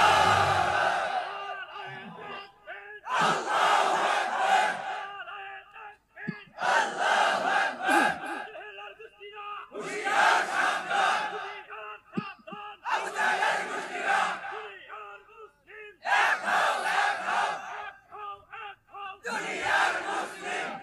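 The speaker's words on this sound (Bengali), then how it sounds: "একজন দাঁড়িয়ে একটু স্লোগান দেন দেখি।" A crowd at an Islamic waz sermon shouts the takbir slogan in loud, repeated collective bursts, roughly seven roaring waves separated by short pauses.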